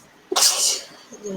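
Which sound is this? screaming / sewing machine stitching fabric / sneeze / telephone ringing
sneeze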